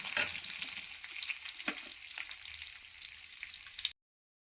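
Oil sizzles and crackles steadily as curry leaves fry in a tempering for coconut chutney, with a few sharper pops and spits over a continuous hiss, close up and with no talking.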